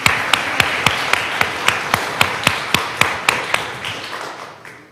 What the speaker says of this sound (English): We have a round of applause for Father Matt for putting this on.